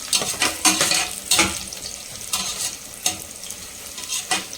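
Onions sauté in hot oil for a mutton biryani, with close, loud stirring strokes scraping through a continuous sizzle, busier at the start and then spaced out.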